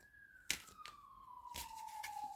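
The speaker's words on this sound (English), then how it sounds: "police sirens" A police siren wails from a station around the corner, faint and distant, its single tone sliding slowly downward, broken by a few sharp close knocks.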